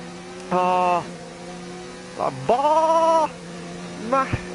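A person imitates a sheep bleat, giving three wavering, nasal bleats, the middle one longest and loudest, over a faint steady hum.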